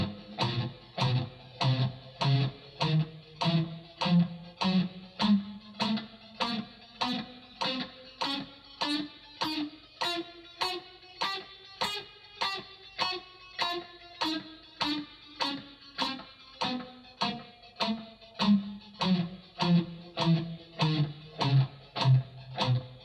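An electric guitar played through heavy distortion chugs in a steady, even stream of palm-muted notes, with the pitch slowly climbing and then falling again over a long passage. It plays alone, loud and close, with no voices.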